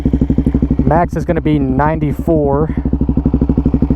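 A Suzuki DRZ400 motorcycle fitted with an aftermarket exhaust idles close by with a steady, even throb, while a person talks over the engine in the middle of the clip.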